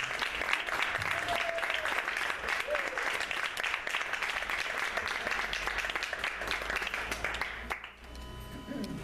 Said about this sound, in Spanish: recibimos nuevamente con un fuerte aplauso a la princesa Rania, Noe Beridans y Joana Beridans.